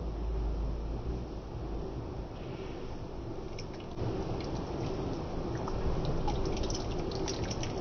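Melted milk poured slowly into a cooking pot of curry, making a soft, steady liquid trickle and drip that runs close and unbroken for several seconds with no talking.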